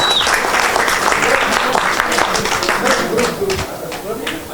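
Loud, dense audience applause fills a movie poster launch event, steady clapping throughout with crowd noise and voices mixed in underneath.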